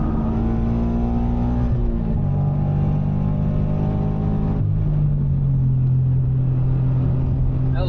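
A Subaru BRZ track car's engine revs and accelerates on an F1 circuit, a loud, steady drone with rising pitch that drops and climbs again midway, close and continuous, with faint talk underneath.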